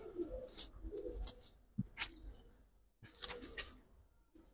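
Domestic pigeons of the coloring breed, kept for flying, coo softly in a loft, with repeated low throaty coos and some rustling, faint and fairly close, with no speech.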